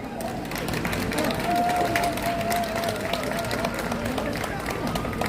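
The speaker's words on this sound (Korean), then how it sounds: "우리 정경희 의원님을 위해서 박수 한번 부탁드리겠습니다" Outdoor street rally crowd in Gwangbok-dong, Busan, giving a round of applause: dense, continuous clapping and cheering across the whole stretch, mixed with crowd babble and a faint steady tone running underneath.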